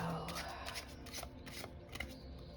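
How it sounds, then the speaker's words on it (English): Tarot cards are shuffled by hand in a steady run of papery riffles and soft slaps, close and fairly quiet, with no talk over them. "Let's pull our tarot cards."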